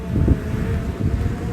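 Strong gusty wind roars across the microphone at an outdoor drone flying site, a loud continuous low rumble with buffeting, no voices.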